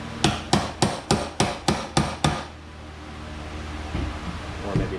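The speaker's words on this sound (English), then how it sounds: "catch the edge of the bearing down here with a punch. Just like so. Then tap that bearing out." A hammer striking a punch against a bearing on a Cub Cadet RZT-54 zero-turn mower deck, about eight sharp, evenly spaced metallic taps close up, then a quiet stretch of faint shop noise.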